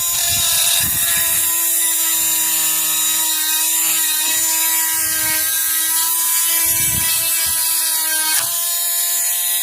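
A new cordless drill with a bit bores into a large fossil, a steady high whining drone running throughout at close range, loud and continuous with slight pitch shifts as it bites in.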